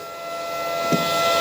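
A 2023 Keeway RKV125 motorcycle's fuel pump primes with a steady, thin electric whine that swells slightly, joined by a brief soft click near the end, heard close and alone.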